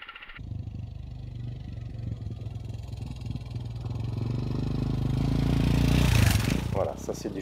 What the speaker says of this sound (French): à chaque fois que j'entends le son de ma moto via la caméra, ça a vraiment un bruit de tracteur